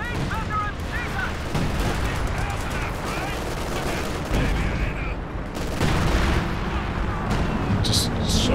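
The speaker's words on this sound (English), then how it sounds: "Comes the walking Stuka to follow that up." A walking Stuka rocket artillery barrage rains down in a Company of Heroes 2 battle, a dense, continuous roar of explosions and crackling gunfire that swells and surges for several seconds.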